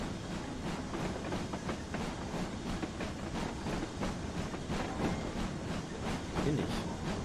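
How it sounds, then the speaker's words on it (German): Long freight train rolling past in the Train Sim World 2022 video game, with a steady rumble and rapid, regular clickety-clack of wheels over rail joints, close and continuous throughout. "Oh, ist ein langer Zug hier."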